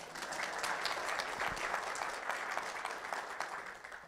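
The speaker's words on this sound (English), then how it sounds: "you can clap, you can clap" A crowd applauds steadily, a dense even patter of clapping that holds at the same level throughout.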